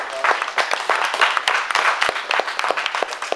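A round of applause from a small audience, dense steady clapping that fills the whole clip at close range.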